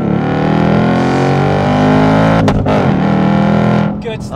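A loud, close Ford Mustang GT Performance Pack V8 engine revs and roars with a deep growling tone, rising and dipping, and a voice briefly cuts in near the end.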